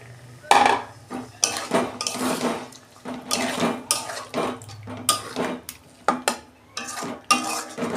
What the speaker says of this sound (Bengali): পনিরটা দিয়ে আমি একটু নাড়াচাড়া করব। আমি অল্প পরিমাণ জল দিচ্ছি